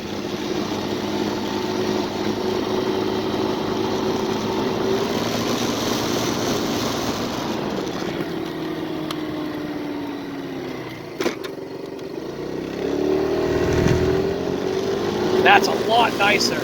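A 50cc scooter engine runs steadily during a ride, giving a continuous close drone with road and wind noise that shifts slightly near the end as the throttle eases.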